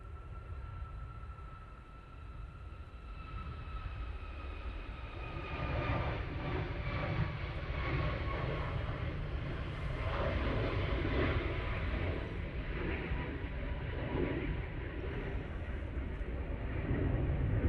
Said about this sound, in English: Tui Max now taking off.